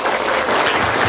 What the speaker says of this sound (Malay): tepuk tangan yang terakhir.